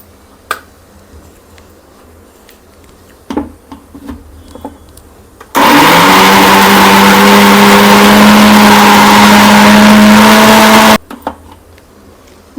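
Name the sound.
mixer grinder blending cucumber chutney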